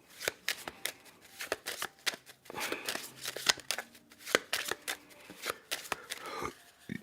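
Lenormand oracle cards are shuffled by hand up close in a quiet room, a run of quick riffling snaps and slides in uneven bursts, some louder than others.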